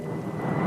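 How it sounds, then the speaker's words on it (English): Aircraft engines drone in a steady, broadband roar in a film scene, loud and continuous with a slight swell, no other sounds standing out. "I think they're enemy planes, sir."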